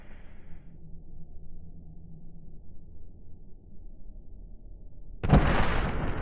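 An M1 Abrams tank in the Melon Playground game fires one loud, sudden blast near the end, after a long stretch of quiet low rumble.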